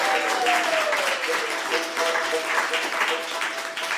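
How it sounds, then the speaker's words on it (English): Audience applause fills the room after a live bluegrass set on a radio station's lunchtime stage show, a dense, steady wash of many hands clapping at once with a faint tone lingering underneath. "how about one more round of applause for Darrow, the first half of the show here today?"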